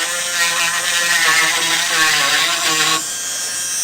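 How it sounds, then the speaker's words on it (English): A rotary tool bit whines at high speed while carving a tight space in a workpiece, a steady buzzing tone with slight wavering as it cuts, then easing off near the end. "that's one of the things that rotary bits are so good for, is eliminating that choppiness that the gouges leave in these tight spaces."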